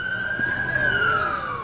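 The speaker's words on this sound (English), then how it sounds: "sirens" Emergency vehicle siren wailing steadily at moderate distance with a sustained rising-falling tone over low street background.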